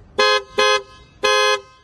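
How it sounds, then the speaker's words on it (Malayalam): Three loud, close honks from an aftermarket horn fitted to a base-model Maruti Baleno, two short blasts followed by a longer one, with a bright, buzzy tone. "ഇത്തരത്തിലുള്ള സൗണ്ടാണ് ആ ഒരു എല്ലയുടെ ഹോൺ വന്നിട്ടുള്ളത്"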